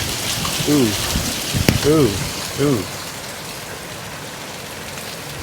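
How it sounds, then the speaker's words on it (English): Dime-sized hail falls steadily onto concrete, a continuous dense patter heard under a few brief spoken exclamations. "That's about dime-sized hail."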